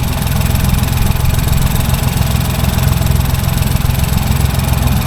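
A Ford 1.0 EcoBoost engine with rattly bolts and a failed head gasket, running close and loud with a steady, even idle throb throughout.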